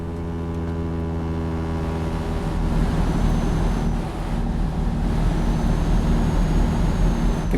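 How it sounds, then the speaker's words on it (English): A motorbike passes by in Euro Truck Simulator 2, its engine hum swelling over a steady, loud road and engine drone from the truck, with no talking. "And a motorbike on my right coming by."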